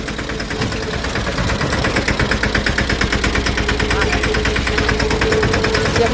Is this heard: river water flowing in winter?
no